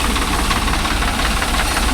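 A Swaraj 744 FE 4WD tractor's diesel engine running on the way to a kollu (horse gram) thresher, a loud close steady knocking chug with a continuous throb and no voices.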